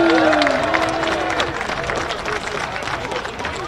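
A crowd at a Lewis & Clark college football game applauds a senior player with dense, steady clapping that carries on after a voice fades out at the start.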